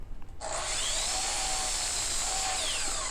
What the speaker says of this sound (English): Now I go back to the drill press and drill a 3/4 inch hole